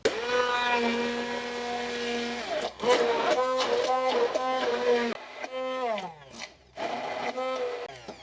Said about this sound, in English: If you come this way, we will blend her up.